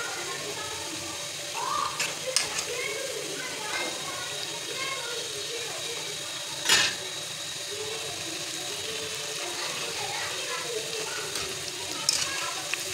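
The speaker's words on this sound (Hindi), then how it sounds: "मीडियम फ्लेम पे ही आपने इन्हें तलना है।" Pakoras frying in hot oil over a medium flame, giving a steady, soft sizzle with light crackles throughout and one brief louder pop near the middle, under a faint background hum.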